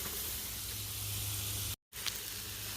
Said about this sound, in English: Go ahead and just definitely spray them down there with some butter.